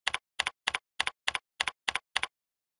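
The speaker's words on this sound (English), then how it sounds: "Here, I type, "we would tow."" Eight quick, crisp keystrokes on a computer keyboard, clicking in an even rhythm close to the microphone, then a moment of silence.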